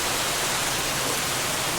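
Sudden rain pours onto a groundnut field, a dense, steady hiss that stays loud and unbroken throughout with no voices.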